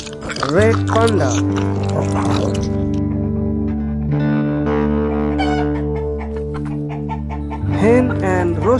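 Hen and rooster calling over steady background music, with rising clucks at the start, a long drawn crow in the middle and more clucking at the end.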